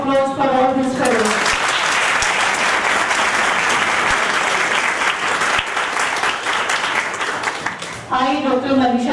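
A large audience applauds the young alumni of the 1972 graduating batch at a golden jubilee meet of Government College of Engineering, Amravati, with dense, loud clapping for about seven seconds, and a voice speaks briefly before and after.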